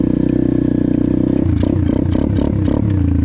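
An Amazon pit bike with an upgraded carburetor idles just after a kick start, a loud, close, steady single-cylinder putter that briefly blips and revs unevenly before settling.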